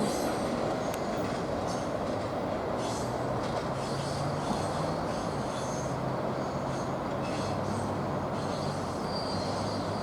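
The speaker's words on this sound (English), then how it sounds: "this is train NS G88. You got it. NS G88. Northbound here in Mableton" A Norfolk Southern freight train, NS G88, rolls northbound through Mableton, Georgia, with a close, loud, steady rumble of wagons, rail clatter and squealing wheels lasting the whole time.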